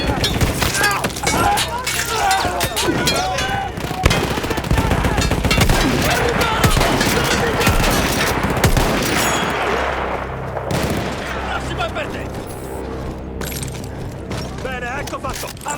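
Mounted machine gun firing in the World War I shooter Battlefield 1, a dense rapid stream of shots with booms and clinks over the first ten seconds, then fading, while someone talks over it.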